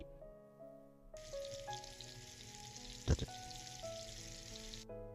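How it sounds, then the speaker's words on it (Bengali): Sliced pointed gourd (potol) frying in a pan over medium heat, a steady close sizzle that starts abruptly, runs for several seconds with one brief louder spatter, then stops, with faint tonal sounds underneath. "চুলার আঁচটা মিডিয়ামে রেখে পটলটাকে এপিট ওপিট করে ভালো করে ভেজে দেব।"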